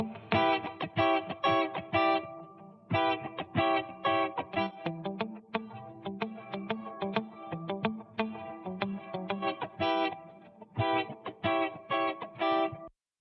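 Two distorted electric guitars play a driving riff together, one crunchy and chord-heavy, the other weaving lower lines, with steady stops and restarts and no vocals.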